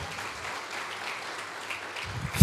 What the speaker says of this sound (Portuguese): aplauda Ele, irmãos